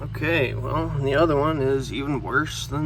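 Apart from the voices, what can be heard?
No everyday noise stands out behind the speech.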